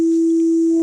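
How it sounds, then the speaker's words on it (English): A Deluge synthesizer plays a steady, loud sustained tone built from FM feedback on sine waves. It holds alone throughout, with a brighter overtone creeping in near the end. "sort of lets you get almost a more kind of saw wave kind of sound from your sine waves"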